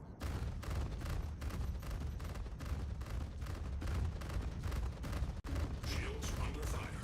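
Ship weapons hammer against shields during a Star Citizen space fight, a relentless barrage of thudding impacts and booms over a deep rumble, with one sharp cutout near the end, steady and loud.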